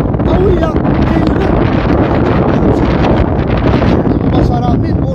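Strong wind buffeting the microphone beside a rough, churning sea on the Moroccan coast at Bouznika, a loud unbroken roar throughout, with someone talking over it.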